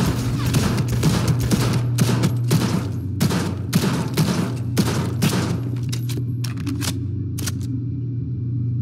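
Video game gunfire in Cyberpunk 2077 comes as bursts of sharp, loud shots in quick clusters, thinning out toward the end over a steady low background hum, with no talking.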